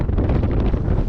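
Heavy wind gusts on a cliff path near Red Beach, Akrotiri, Santorini, Greece, a loud, close, continuous roaring buffet against the microphone with no voices.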